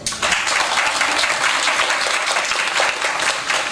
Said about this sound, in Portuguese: uma salva de palmas para Thelma Moreira